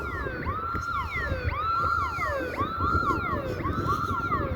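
An outdoor alarm siren wails in repeated rising-and-falling sweeps, loud and continuous, with a cycle roughly every second and no voices over it.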